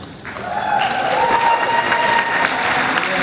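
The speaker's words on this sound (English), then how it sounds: "People clap after that" Audience applause swells and holds steady, a broad wash of clapping with a few faint voices mixed in, heard from within the room.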